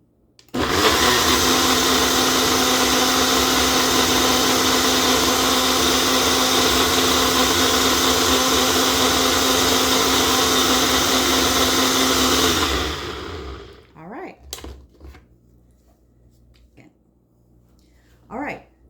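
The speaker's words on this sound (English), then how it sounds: "I'm just going to blend it one more time." A kitchen blender purees chipotle pepper sauce in one loud, steady whirring run of about twelve seconds, then winds down, followed by a few clinks and faint handling sounds.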